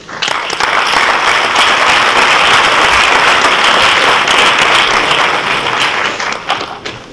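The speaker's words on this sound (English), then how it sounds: "So round of applause for our next speaker." Loud, sustained audience applause at a student symposium assembly, dense hand clapping that swells quickly, holds strong and then begins to thin out near the end.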